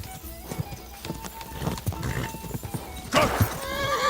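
Horse hooves clip-clop at a gallop in Kingdom Come Deliverance 2, with a loud neigh bursting out near the end over steady game ambience.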